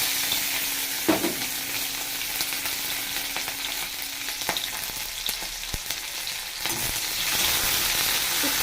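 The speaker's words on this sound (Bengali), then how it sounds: "তার সঙ্গে দিয়ে দিচ্ছি আমি কাঁচা লঙ্কা আর একটু পেঁয়াজ ফোড়ন।" Green chillies and a little onion, along with gandharaj lemon leaves, crackling and sizzling in hot oil for a dried-fish dish, a steady loud hiss with occasional stirring clicks and knocks, no voices.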